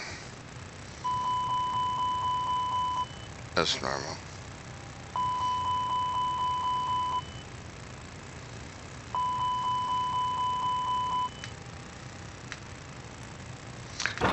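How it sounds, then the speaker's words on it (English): Chirping electronic beeps like a smoke detector sound during Airbus A320 system setup, three separate two-second bursts of rapid pulsed tones a few seconds apart, with a brief clunk between them and someone speaking quietly. "Sound like a smoke detector."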